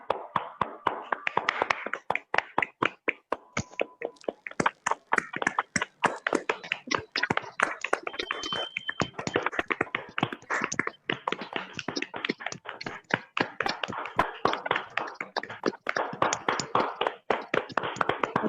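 Loud, sustained applause from an audience welcoming a speaker on stage at a wellness company's lockdown festival event, dense rapid clapping continuing steadily throughout with no talking over it.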